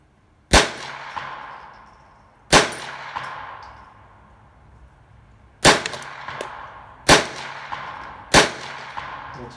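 A Ruger 10/22 stainless target rifle with a 20-inch hammer-forged barrel fires Aguila Super Extra copper rounds outdoors: five sharp, loud shots at uneven intervals, each with a short ringing decay.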